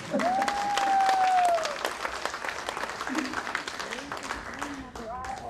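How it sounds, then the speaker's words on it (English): A women's summit audience breaks into a big round of applause, steady crowd clapping that swells early and then continues more softly while a voice calls out over it. "Can we give her again a big round of applause?"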